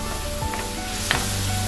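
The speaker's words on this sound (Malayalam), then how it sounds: "പുളി നല്ലോണം തിളയ്ക്കുന്നുണ്ട്" A tamarind brinjal curry boils in a pan, giving a continuous close sizzling hiss with a few soft pops and no voices.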